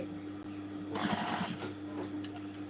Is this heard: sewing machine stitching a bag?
yes